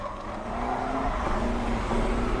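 Racing trucks roar around a race track in Thailand, a steady mid-distance engine drone that swells slightly as the machines draw closer, with no voices over it.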